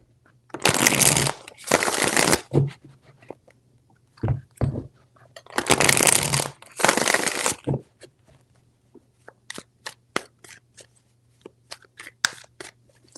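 Tarot cards shuffled by hand in two pairs of crisp, loud riffling bursts, each about a second long, followed by a string of soft, scattered taps and clicks as the deck settles.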